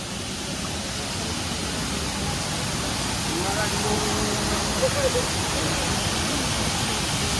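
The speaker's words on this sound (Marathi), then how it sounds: "बघताय तुम्ही पाण्याचा फ्लो किती आहे खूप जास्त प्रमाणात पाऊस पडला आहे" A steady, dense roar of rushing water from a waterfall swollen by heavy rain fills the whole clip, loud and constant like heavy falling flow, with faint voices buried beneath. Savdav waterfall, Kankavli, Konkan.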